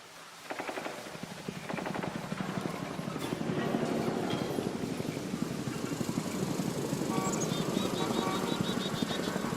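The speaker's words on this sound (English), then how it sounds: "this is what the distant ambient helicopter sounds like in Warframe 1999" Distant ambient helicopter from the video game Warframe 1999, a dense rumbling drone with rapid rotor-like chopping that builds and stays loud throughout, with faint higher tonal accents later.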